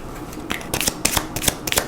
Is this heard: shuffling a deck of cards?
yes